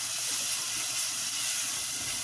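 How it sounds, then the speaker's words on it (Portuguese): Steady, loud sizzling hiss of garlic frying in a little hot oil, continuous and even throughout with no voices. "Então, vou estar fritando esse alho."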